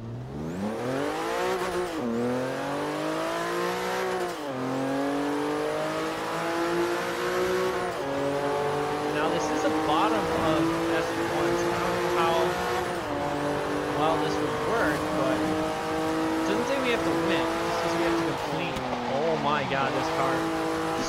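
Porsche 911 Turbo S engine in the Forza racing game, revving and shifting loudly throughout with rising and falling harmonic pitch sweeps, turbo whine and brief tire squeals, while a player talks over it.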